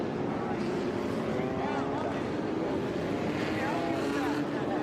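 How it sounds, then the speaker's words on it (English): Big-engined historic racing cars from the 1960s Ford–Ferrari era, up to 7 litres, roar steadily on track at a race meeting, a continuous loud engine drone with wind noise and voices talking over it. "Big engines, big cars, big noise."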